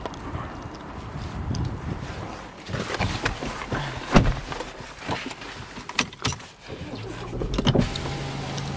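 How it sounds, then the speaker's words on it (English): Electric windows on an Audi A4 2.0 TDI S Line Avant estate whirring as they run, with clicks and thumps from the cabin around the motor hum, recorded close inside the car. "So here we have the electric windows and mirrors."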